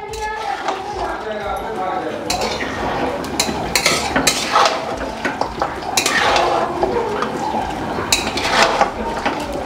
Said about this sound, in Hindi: इसको बहुत देर तक इसी तरह से भून लेंगे, इसको लाल कर लेंगे प्याज के साथ